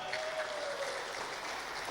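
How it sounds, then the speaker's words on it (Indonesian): Audience applause at a PT Deltamarga Adyatama halal bihalal gathering in 2024, a brief, even burst of clapping from the crowd at moderate distance. "Yang hadir dari Batang boleh aplaus yang lebih meriah."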